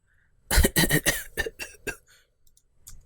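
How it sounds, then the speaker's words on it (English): A burst of harsh, strained coughs from a video game character, several in quick succession, close and loud, tapering into weaker hacks and a final faint cough. "I heard someone's painful coughing."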